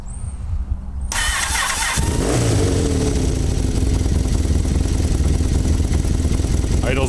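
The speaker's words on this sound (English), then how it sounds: "Alright, so let's start it up, hear it run." A 1985 Honda Interceptor VF700F motorcycle engine cranks and fires after a quiet second, then settles into a steady, loud, close idle that keeps running without pause.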